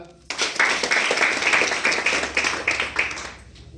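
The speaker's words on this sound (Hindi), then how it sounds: "तालियां चाहूंगा।" An audience at an MLM training meeting clapping together in a brisk, even rhythm. The claps start abruptly, hold steady for a few seconds and then fade out.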